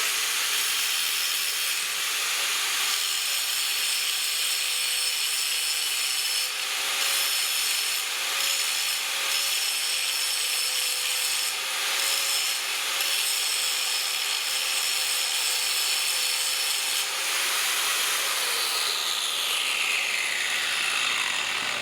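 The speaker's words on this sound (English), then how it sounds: "So I'm just going to bevel it really quick." Metal edge being bevelled before welding, a steady, loud abrasive grinding that runs continuously for about twenty seconds with a faint whine underneath, no talking.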